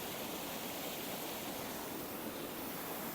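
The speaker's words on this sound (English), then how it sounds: "I basically sat compositions looking straight at the waterfall." A waterfall in the Peak District hills roars steadily, a broad continuous rushing hiss close by with no other sounds.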